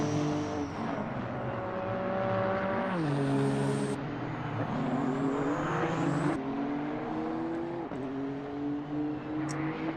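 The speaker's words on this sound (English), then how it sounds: "enjoy the sounds of the Hololive GT3 cars around the track here in Red Bull Ring" GT3 race cars lapping the Red Bull Ring in a racing video game, several engines whining and shifting through gears, pitch rising and dropping as cars pass, steady and alone without commentary.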